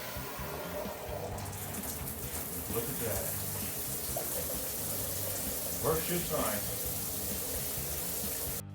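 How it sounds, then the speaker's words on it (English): Water running through a newly installed rain shower head, a steady hiss of spray lasting throughout, with someone speaking briefly over it. "Alright, turn the water on and see if it works."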